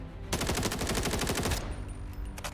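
Rapid automatic gunfire from a weapon on a shooting range in the Delta Force video game, a dense burst of shots lasting over a second, followed by a couple of fainter trailing sounds.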